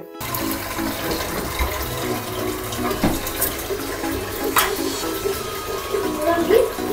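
Tap water runs steadily into a pressure cooker in a home kitchen, a continuous close splashing wash with faint voices in the background.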